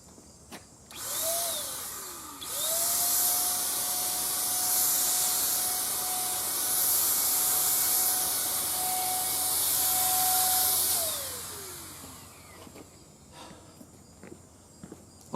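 An electric paint sprayer runs in two bursts, a steady motor whine and hissing spray starting, holding for about eight seconds, then winding down, close and fairly loud.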